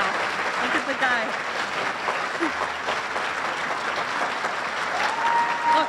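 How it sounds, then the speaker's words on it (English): A gala audience applauds a speaker with sustained, dense clapping from a large crowd, steady throughout with faint voices mixed into the noise. "They're clapping for you."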